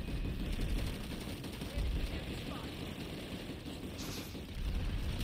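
Rapid gunfire crackles in the online shooter Planetside 2, dense bursts over a rumbling battlefield backdrop, fairly loud and continuous with no clear pauses.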